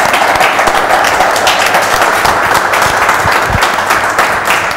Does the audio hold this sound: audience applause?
yes